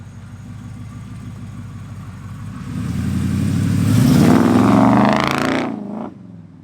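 A Ram pickup with a 6.1 Hemi V8 and new exhaust rumbles in, builds to a loud, deep roar as it passes close by, then drops away quickly.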